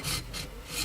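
A 15-inch JBL 2226H woofer's speaker cone edge rubbed with rough grit sandpaper, giving three close, raspy back-and-forth scraping strokes in quick succession with no talk.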